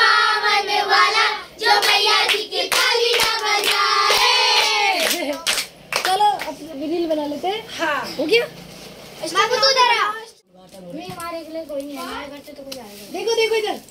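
Hands clap along to a devotional mata rani song during a Navratri gathering at home, sharp claps mixed under loud singing and children's voices throughout.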